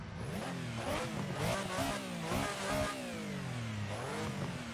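A race car engine at a Goodwood hillclimb revs up and down repeatedly before its run, loud and close, the pitch rising and falling in several sharp bursts.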